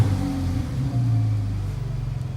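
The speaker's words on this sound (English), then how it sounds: "So let's turn the car on." A 2012 Porsche 911 Carrera S engine running just after being started, a loud, close, low rumbling idle that swells slightly and then settles into an even throb.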